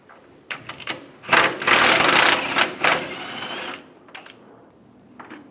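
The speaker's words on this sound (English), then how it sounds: "Using a 15mm socket, take this bolt out." A 15mm socket on a ratchet backing a rear bumper bolt out of a 2007-2013 Chevrolet Silverado 1500, heard as close, rapid clicking bursts of varying length with short pauses between them.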